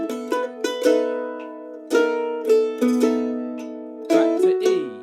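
Open chords strummed on a mandolin for a song, bright plucked chords struck in a lively bass-and-strum rhythm, ringing clearly and alone at close range.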